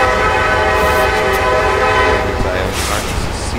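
Horn of a CSX SD70 AC diesel locomotive in a railroad simulation game, sounding as a steady, loud multi-tone chord held for several seconds over a low engine rumble, easing slightly near the end.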